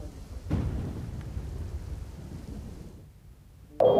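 Heavy downpour in Bhuj city, Kutch, a steady broadband roar of rain with low rumbling, fairly loud and continuous before easing slightly near the end, no speech.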